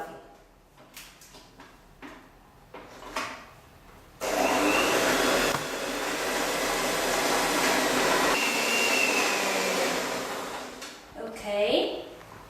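An electric mixer beats granulated white sugar into chocolate cupcake batter, a loud steady whir that starts abruptly partway through, preceded by clattering handling sounds and followed by a short rattle as it stops.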